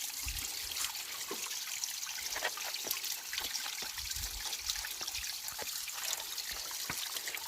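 Clean water trickling down from a natural spring above a hill village in Pauri Garhwal, Uttarakhand, a steady, soft babbling flow with faint drips and splashes, continuous and fairly close, with no voices.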